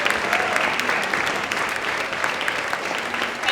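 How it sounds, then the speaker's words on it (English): An audience at a public pitch event applauds Henrik with steady, dense clapping that holds evenly throughout, fairly loud and with no talking over it. "Big round of applause to Henrik."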